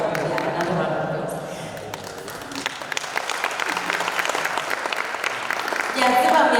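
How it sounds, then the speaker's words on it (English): Audience applause at a dialogue event, steady dense clapping from a room full of people that swells toward the end, with a voice talking over it at times. "another round of applause"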